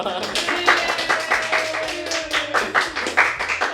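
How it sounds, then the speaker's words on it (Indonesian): Audience clapping at a TEDx university talk event, steady continuous applause from a crowd with a voice faintly audible underneath. "Tepuk tangannya dong."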